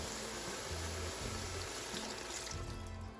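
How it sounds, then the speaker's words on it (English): Water and kimchi juice poured into a pan while making kimchi fried rice, a steady splashing liquid rush lasting throughout, fairly close and unbroken, with no talking. "adding the water and the kimchi juice that we reserved at the beginning"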